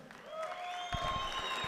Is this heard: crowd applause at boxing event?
yes